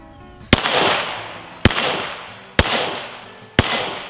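Four sharp gunshots from a Ruger 57 pistol, evenly spaced about a second apart, each a loud crack followed by a short fading echo.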